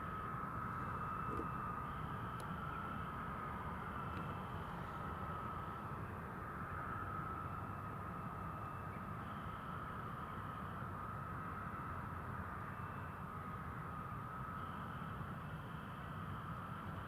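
An EasyJet airliner departing runway 07 at Newcastle Airport, heard as a steady, broad jet roar that holds at an even level throughout, with no talk over it.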